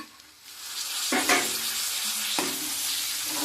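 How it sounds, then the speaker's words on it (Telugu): Green peas added to a curry frying in a pan for hotel-style puri curry, a loud, bright sizzle that flares twice as they hit the hot oil and then keeps hissing steadily. "పచ్చి బఠానీ వేసుకుందామండి"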